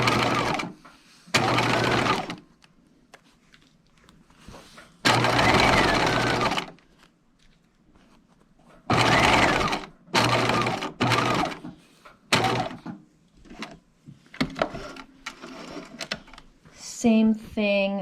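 A sewing machine stitches in short separate bursts while basting pocket layers at a long stitch length, each run a second or two of quick rhythmic clatter, with quiet gaps and brief handling noises between.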